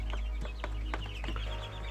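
Young Araucana chickens cluck inside a coop, a cluster of soft, fairly close clucks over a strong steady low hum, with no voices.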